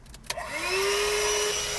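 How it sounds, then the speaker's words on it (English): A Black & Decker Dust Buster 18-volt handheld vacuum starts after a click and spins up with a rising whine, then holds a loud, steady close-up suction drone. "I had to get me a handheld vacuum cleaner, 18-volt vacuum cleaner. Black & Decker Dust Buster"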